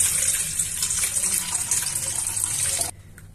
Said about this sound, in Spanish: Agregaré media taza de agua.